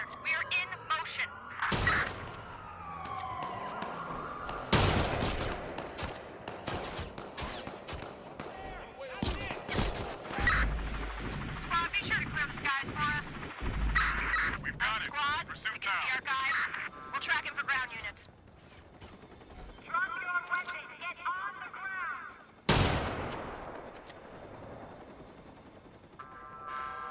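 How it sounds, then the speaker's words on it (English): Video game gunfire comes as scattered sharp shots and rapid bursts mixed with radio chatter and other game effects, with loud cracks standing out repeatedly across the stretch. "Shots fired."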